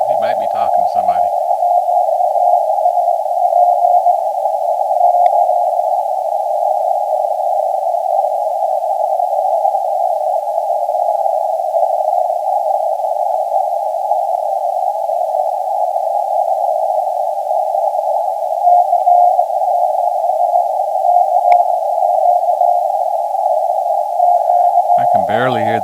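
A ham radio receiver carries a single steady RTTY data tone calling CQ, unbroken for nearly half a minute, with a brief voice at the very start and end.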